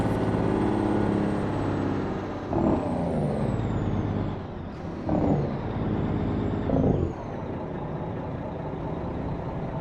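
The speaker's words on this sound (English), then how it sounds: "I love the way the truck sounds." A heavy truck engine drones steadily in American Truck Simulator, with three loud bursts of air brake hiss at intervals over the continuous rumble, and no talk.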